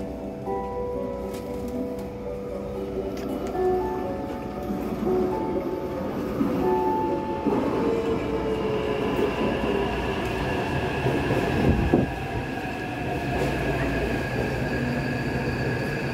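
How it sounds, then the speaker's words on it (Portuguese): A metro train arrives at a station in Taiwan, its steady rumble swelling with gliding motor whines, faint wheel squeal and rail clatter as it slows, loud and close throughout. "Metrô chegando."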